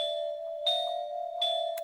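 A plain bell tone from a music production plugin rings steadily with a sustained pitch, struck again about twice in under two seconds, clean and alone with no voices.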